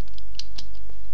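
Keystrokes on a computer keyboard, a few sharp clicks at uneven intervals, close and clear with no talking.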